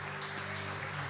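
A church congregation applauds, a soft, dense, steady patter of many hands clapping in a room, heard briefly at a moderate distance with a faint electrical hum beneath.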